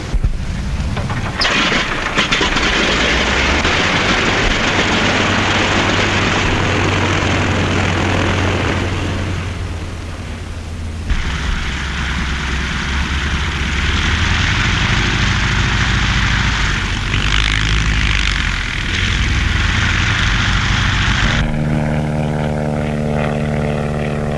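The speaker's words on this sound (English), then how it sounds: "The planes must be light and fast so they can be easily maneuvered." Steady loud drone of a light, fast skywriting propeller plane in flight, with a deep engine rumble that shifts in pitch partway through, then ends in a sharp change to a buzzing tonal hum.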